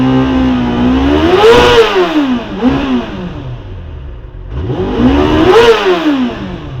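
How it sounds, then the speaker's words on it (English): 1991 Kawasaki ZXR400 motorcycle engine warming up, revved twice in smooth swelling blips that rise and fall over a steady idle, loud and close. "that is how I start and run my ZXR400"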